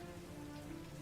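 Steady, dense rain hiss in the video game Heavy Rain, a soft continuous wash of falling drops with no voices.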